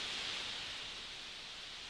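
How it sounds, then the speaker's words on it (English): Steady hiss of white noise from a live synthesizer, broadband and even, fairly quiet and unbroken with no voices. "And it just sounds so ruddy good, white noise."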